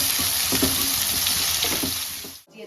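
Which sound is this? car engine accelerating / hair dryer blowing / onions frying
onions frying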